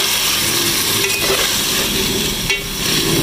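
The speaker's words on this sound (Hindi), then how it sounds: "टमाटर, हरी मिर्चें, ये सब चीज़ें साथ भूनें" Tomatoes and green chilies sautéing in a pan, a dense, loud, continuous sizzle with faint stirring scrapes and a couple of brief clinks, close up and without speech.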